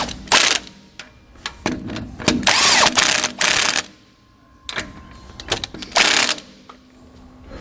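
Ratcheting bursts from a 13mm socket tightening the rear anti-sway bar bolts on a 2018 Ford E-Series cutaway, close and loud, repeated in several quick runs separated by brief pauses.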